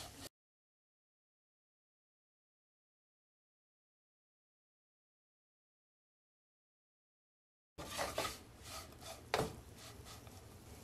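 Brinjal fry with curry leaves and spice powder being stirred in a pan: after a long silence, a few seconds of close scraping and rubbing with light knocks against the pan.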